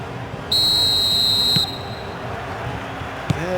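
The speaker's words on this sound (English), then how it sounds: "There's the whistle." A referee's whistle in a PES 21 football video game match blows one steady, shrill tone of about a second over constant stadium crowd noise, followed by a short thud.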